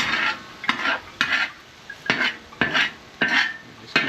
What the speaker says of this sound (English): Just keep going and stirring with it, flipping it around.